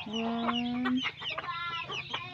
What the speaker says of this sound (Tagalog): So guys, magpakaon na lang kay manok.